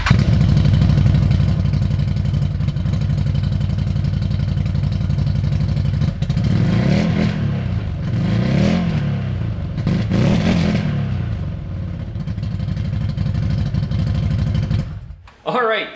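A CFMOTO Z-Force 950 HO side-by-side with a GGB dual exhaust trail muffler idles loudly and close, rumbling deep and steady, then revs up in a few rising bursts before settling and cutting off near the end.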